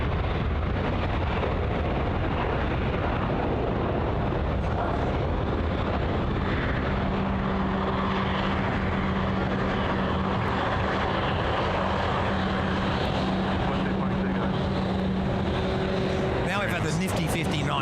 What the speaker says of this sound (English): Nifty 5900 takeoff, Andrew.